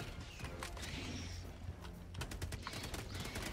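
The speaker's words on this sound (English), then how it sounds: "Watch the machine gun fire." Machine gun fire in Helldivers 2 comes as faint, distant rapid bursts of automatic shots, clustering more densely in the second half over a busy game background.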